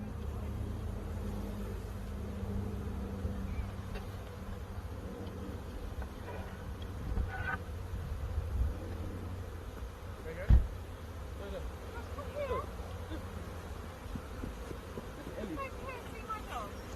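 A swarm of honey bees buzzes steadily in the open air, a low continuous drone with a few louder passes close by, while people talk quietly nearby.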